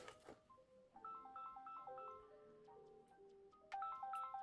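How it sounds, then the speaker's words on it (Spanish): A smartwatch incoming-call ringtone plays a repeating melodic chime pattern, fairly faint and thin, looping without pause. "tiene tono de llamada"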